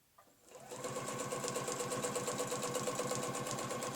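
After a brief click, a sewing machine starts up and runs continuously in a fast, even rhythmic chatter, close and steady, while stitching a ruler-guided quilting line around a point.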